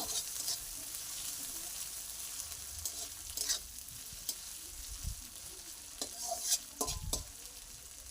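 A steady, fairly quiet sizzle of shredded cabbage frying in a pan as chopped tomato goes in, with scraping stirs and a few sharper spoon knocks toward the end.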